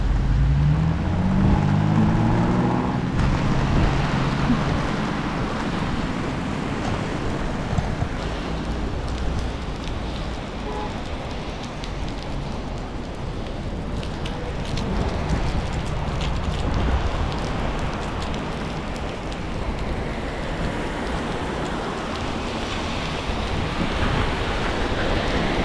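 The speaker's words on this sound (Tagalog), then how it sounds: "Oh, raining. It's raining." Steady rain falls continuously for nearly half a minute, an even, dense hiss with no breaks or distinct drops standing out.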